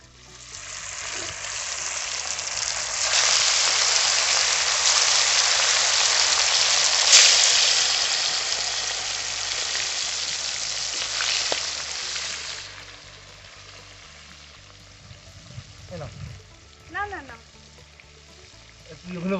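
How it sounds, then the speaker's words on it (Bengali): Second batch of shankar stingray fish dropped into hot oil, a loud sustained hiss of frying that swells then eases after about twelve seconds, with clinks and faint voice at the end. "সেকেন্ড ব্যাচের যে মাছগুলো ছিল সেগুলো আমি ভেজে নেব।"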